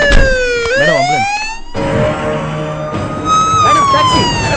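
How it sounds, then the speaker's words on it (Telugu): An ambulance siren wails loud and near, with rising and falling electronic sweeps and a brief rapid yelp, switching patterns in a tense film street scene. "Madam ambulance."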